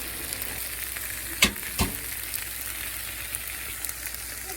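Shrimp fry with vegetables in a pan, a loud, continuous crackling sizzle with a couple of sharp utensil clacks near the middle.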